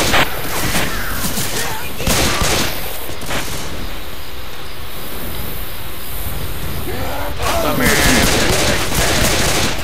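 Gunfire in the video game Left 4 Dead 2 rattles as dense, continuous bursts through a loud, busy game mix, with a heavier volley near the end and a voice briefly speaking over it.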